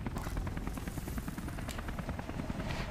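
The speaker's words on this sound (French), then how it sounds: "L'hélicoptère là, est-ce que je peux le prendre?" Rotor blades of a helicopter in the video game Beyond Two Souls chop in a fast, constant beat, fairly close, with no voices.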